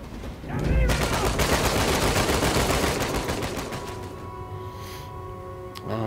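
Rapid bursts of gunfire in the video game Uncharted 4 fill the whole stretch, dense and loud, like machine-gun fire in a firefight, with a faint voice partly buried underneath.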